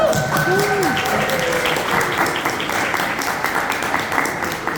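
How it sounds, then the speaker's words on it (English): At an animation awards ceremony, the audience applauds volunteers with steady, dense clapping that fills the hall, with a brief voice audible near the start. "I want to just give a huge applause to them"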